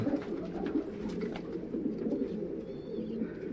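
Racing pigeons of the Dutch type cooing together inside a coop, a soft steady murmur of overlapping coos close by with occasional wing or movement noises, no speech.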